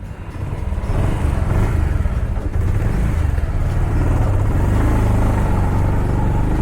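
Motorbikes set off along a mountain road in the Himalayan hills of Uttarakhand on a cool morning, their engines droning loud and close with a steady, rumbling low throttle that holds throughout, no voices over it.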